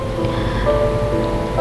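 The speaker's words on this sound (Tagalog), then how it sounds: "habang bumubuhos ang malakas na ulan" Heavy rain pours steadily and loudly in a dense, continuous hiss, with a faint tonal hum running underneath.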